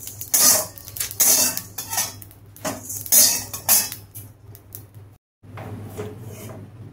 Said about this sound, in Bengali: মশলাটা দেখো সঙ্গে সঙ্গে আমি এর মধ্যে ঢেলে নিলাম